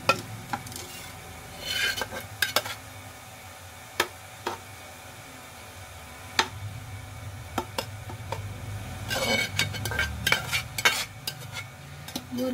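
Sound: leftover lentils added to pan and stirred

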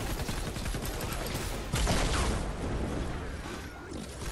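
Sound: broadsider cannon traps firing in video game Fortnite

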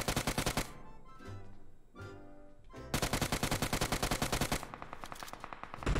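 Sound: gunfire in PUBG Mobile video game

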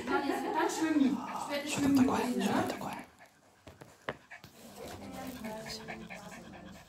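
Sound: dog panting and whimpering at the vet

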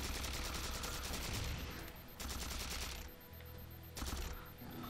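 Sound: gunfire from a gun in the video game Halo 4

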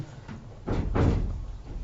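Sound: door being closed with effort

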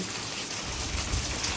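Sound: raindrops dripping after rain

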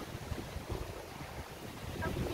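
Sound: strong wind blowing after heavy rain

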